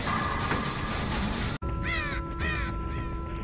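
Crows caw in the horror video game Dead by Daylight, a few loud harsh calls close by, following a brief abrupt dropout over a dense noisy game background.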